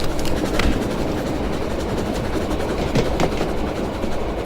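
A train runs along its rails in Germany, a steady rushing rumble with faint clicking of the wheels, continuous and fairly loud throughout.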